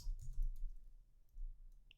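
Typing on a computer keyboard while writing HTML code, a few soft clicks and taps close by, quiet and brief with no talking.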